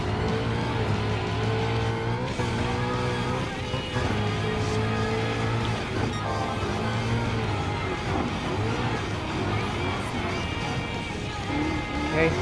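Engine of a Mustang rally car racing in Gran Turismo Sport, a loud continuous whine with shifting revs throughout, mixed with game sounds and commentary talk over it.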